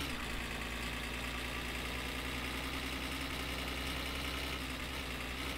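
A car engine idles in the My Summer Car video game, a steady, dense low rumble with a constant hum that runs unbroken and fairly loud throughout, with no voices.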